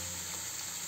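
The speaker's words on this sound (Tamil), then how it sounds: "இப்போ நம்ம பொட்டேட்டோ சிப்ஸை நல்லா சூடான எண்ணெயில் ஹை ஃப்ளேமில் வச்சுக்கிறோம்" Homemade potato chips frying in hot oil over a high flame, a brief, steady, bright bubbling sizzle heard close and alone.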